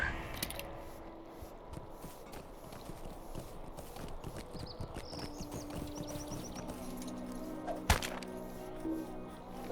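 Hooves of a horse mount trotting in the Lord of the Rings Online game, a continuous quick clip-clop rhythm over a game ambience with occasional chimes and a sharp thump near the end.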